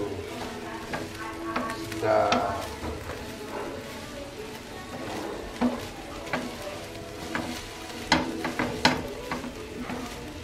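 Beef satay pieces fry in a pan with a steady, crackling sizzle and occasional stirring clatter, while voices talk faintly nearby.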